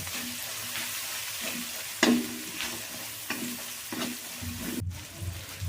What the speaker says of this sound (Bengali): হলুদটাকে আমি একটু ভালো করে নাড়াচাড়া করে নেবো